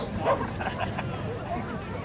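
A dog barks during an agility run at the Malvern Autumn Show, giving a few short yips and woofs amid crowd murmur and general outdoor show noise.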